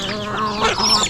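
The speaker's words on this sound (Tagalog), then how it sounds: "dumadami yung manok natin" Farm fowl cackle and squawk close by in a brief flurry of overlapping honking calls, loud and busy, as a flock of chickens mills around.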